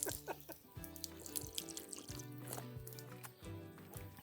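Water from the Hobbiton movie set in the Shire, New Zealand, pouring and trickling with dripping splashes and clinks, soft and close, with a voice faintly in the background.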